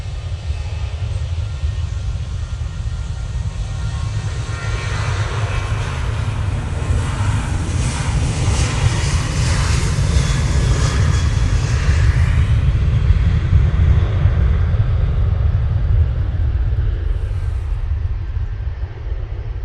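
Jet2 airliner in special livery at Manchester Airport, its engines giving a loud, steady broadband roar with a heavy low rumble that holds throughout, easing slightly near the end.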